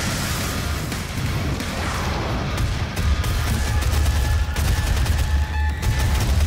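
Rapid sustained chain gun fire against a pack of imps in DOOM (2016), a dense continuous rattle of shots with heavy booms, loud and close throughout.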